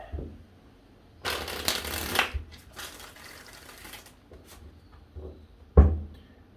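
Cards being shuffled in three quick riffled bursts, close and crisp, separated by short pauses, ending with a sharp snap.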